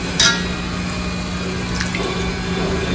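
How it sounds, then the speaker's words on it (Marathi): Water sloshes and splashes as fresh coriander is washed in a kitchen, a close, steady watery churning with a sharper splash near the start. "मी अशा पद्धतीने कोथिंबीर धुवून घेते, 4-5 पाण्याने धुते"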